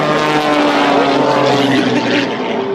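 Steady, loud propeller drone of an MX Aircraft MXS aerobatic plane performing at the Bagotville airshow, a continuous engine roar with a slight pitch shift near the end, no talk over it.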